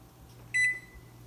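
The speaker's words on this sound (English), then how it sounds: "my timer just went off" A kitchen timer goes off in a home kitchen with a single short, clear electronic beep over a quiet background hum.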